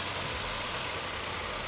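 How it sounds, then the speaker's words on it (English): A petrol engine runs steadily at idle, a continuous broadband hum and whir with a low rumble, close and even throughout with no pauses. "So now I want to show you what a petrol engine sounds like."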